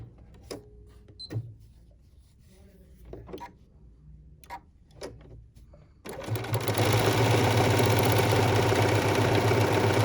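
After a few scattered clicks and light handling taps, a sewing machine with an open toe walking foot starts a satin stitch through batting, a loud, fast, steady mechanical chatter that continues to the end.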